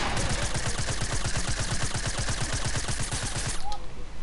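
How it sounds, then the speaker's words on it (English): Players shoot at each other in an online video game, a rapid, evenly spaced automatic burst of gunfire rattling loud and close for about three and a half seconds before cutting off abruptly. "stop shooting me from the back"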